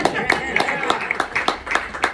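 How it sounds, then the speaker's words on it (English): An audience claps for a speaker's father at a talk, a short burst of scattered hand claps with a voice speaking over it. "Everybody give my dad a big clap for sitting here."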